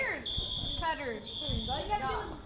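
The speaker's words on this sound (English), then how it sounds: "Shut up, stupid fire alarm." A school fire alarm sounds a steady high-pitched electronic tone that cuts out briefly and resumes, ringing beneath excited talk from several nearby people.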